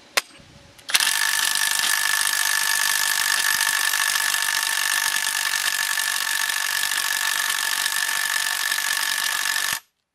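A Parkside cordless impact wrench straining against a stubborn nut, hammering continuously for about nine seconds at a loud, steady, rapid rattling pitch before cutting off abruptly.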